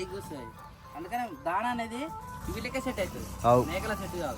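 Goats in a village bleat several times in close succession, loud wavering cries rising and falling near the listener over a low background murmur.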